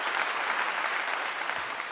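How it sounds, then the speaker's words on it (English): Applause from a small gathering at a community meeting, a steady dense patter of many hands clapping that holds evenly for the whole stretch, moderately close, with no voices over it. "Give you a clap."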